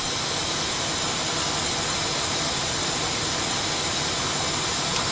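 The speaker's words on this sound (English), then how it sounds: "And we are trying to relight the engines." A320 jet engines relighting in a flight simulator, a loud unbroken broadband roar and rush that stays even throughout, with no voices over it.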